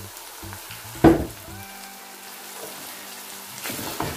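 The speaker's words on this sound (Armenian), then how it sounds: "Մեր միսը արդեն տապակվում է" Ground meat fries in a pan for pasta with minced meat, giving a steady close sizzle, with a sharp clatter of stirring partway through.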